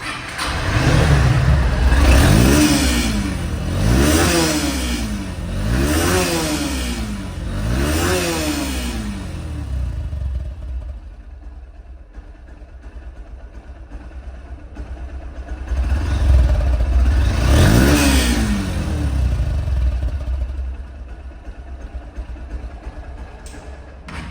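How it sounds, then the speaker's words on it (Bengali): A 2022 Honda X Blade motorcycle engine runs close by, revved repeatedly in rising and falling sweeps, then settles to a steady idle before another strong rev and a return to idle. "এই বাইকটির সাউন্ডটা অন্তত ইঞ্জিনের সাউন্ডটা অন্তত আপনারা"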